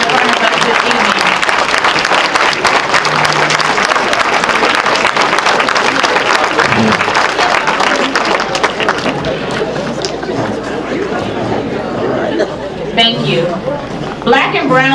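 An audience claps loudly and steadily for essential workers at an African American event, dense applause with cheering and crowd babble throughout, easing slightly toward the end.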